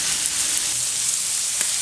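Bacon slices sizzling in grease on a griddle, a dense, steady crackling hiss close up with no talk over it.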